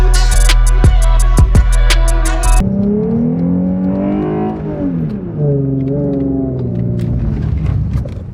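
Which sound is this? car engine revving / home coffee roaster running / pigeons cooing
car engine revving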